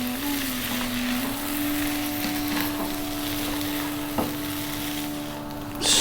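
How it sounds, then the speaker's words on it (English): Spices and potatoes stirred in a hot pan, a steady sizzle with scraping, shuffling strokes of the spoon, close and continuous, with a faint hum underneath and a sharper knock near the end. "Now keep stirring all the time now for 3 minutes."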